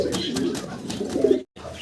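Noton pigeons coo in a soft, low rolling burst close by, then a brief silence before a short resumption.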